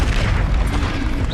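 An Incendio fire spell cast in the Hogwarts Legacy video game gives a loud, dense roaring whoosh with a heavy low-end rumble, sustained and unbroken for the whole moment.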